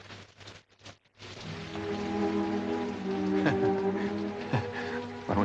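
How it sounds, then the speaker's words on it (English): Steady rain falls with a soft wash of noise, interrupted by a brief dropout near the start, over a sustained low musical tone from a 1954 film soundtrack. "It's raining."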